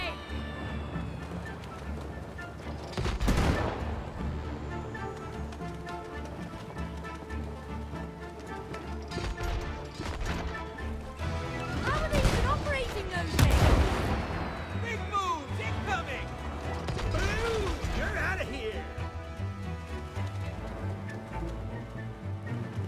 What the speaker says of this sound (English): They've got cannons too!